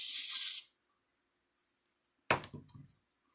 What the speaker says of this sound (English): And I'm just going to give it a light spray.